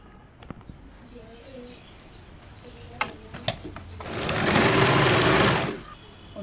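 Sewing machine running in one steady burst of stitching as blouse fabric pieces are joined, loud and close, preceded by a few light clicks and handling taps.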